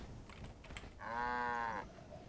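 A cow in Guild Wars 2 gives a single drawn-out moo, fairly close and clear, over a light bed of game ambience and faint clicks.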